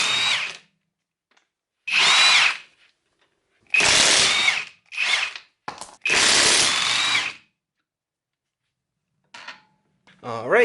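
A Hercules Ultra Torque impact wrench removes wheel studs on a 2007 Mini Cooper S, firing in about six loud, close bursts of rattling whir separated by short pauses, then two fainter short bursts near the end.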